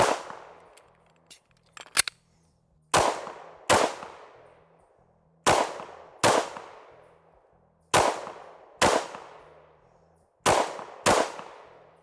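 Ported CZ P-10C pistol fired at a range, a few faint early shots followed by sharp loud reports coming in quick pairs, each pair separated by a pause.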